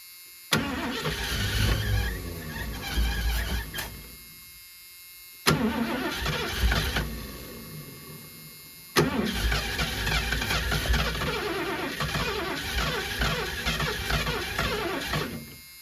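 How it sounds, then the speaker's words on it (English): An old RV engine that had sat for two decades is cranked three times, each try catching with a sudden loud bang, then rough, sputtering, popping running that falters and dies before the next attempt. "Because it's backfiring."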